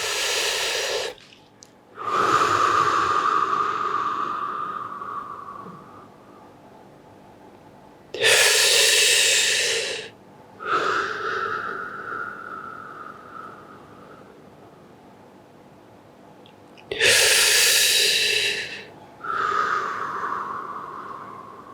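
Three slow, deep breaths during a pelvic massage, each a loud inhale followed by a long audible exhale, close to the listener with quiet pauses between them.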